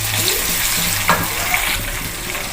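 Water splashed into a sizzling pan of meat and green-bean curry cooking with onion and tomato, giving a steady close frying hiss with a brief sharper burst of spatter partway through.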